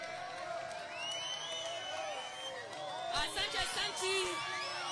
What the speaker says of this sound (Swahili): Mheshimiwa Masaka Kuya kutoka Kasarani, mpigieni makofi